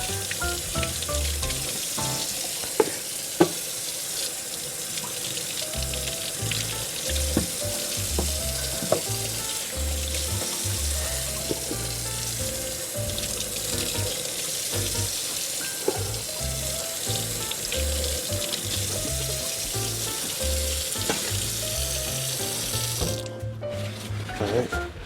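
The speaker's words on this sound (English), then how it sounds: "We're gonna rinse each one of them off" Tap water runs continuously as chicken wings are rinsed one by one for smoking, a close, steady hiss and splatter with small clunks of handling, lasting throughout with no talk.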